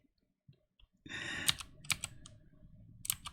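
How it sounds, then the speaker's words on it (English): Close computer keyboard typing in a podcast setting: bursts of quick, irregular key clicks with a few sharper taps, fairly loud and alone with no talk. "Excuse the typing"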